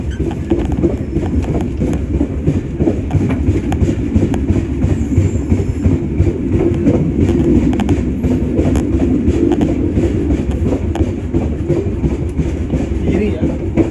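A passenger train in East Java arriving at a station near Malang and switching onto track 1, a steady loud rumble with rhythmic wheel clatter over rail joints, heard from on board under intermittent talk.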